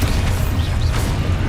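A spell blast from the Hogwarts Legacy video game, cast as part of a rapid combat combo, with a heavy low rumbling boom and sharp bursts carrying through the whole short stretch.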